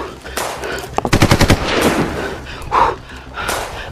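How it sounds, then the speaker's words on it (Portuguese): A rapid burst of about half a dozen gunshots rings out close by on a trail, followed by heavy breathing and scuffling movement. "Tá atirando aqui em cima, véi!"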